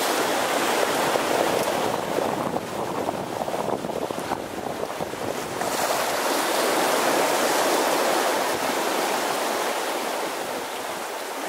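Steady broadband rush of water streaming past the hulls of a 2009 Fountaine Pajot Lavezzi 40 catamaran sailing under a parasailer on the Caribbean Sea off Panama, continuous and close with some wind noise mixed in.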